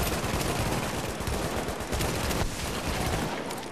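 Rapid, dense bursts of sniper rifle gunfire in The Division's Dark Zone crack loudly and continuously for the whole stretch, with no talking over them.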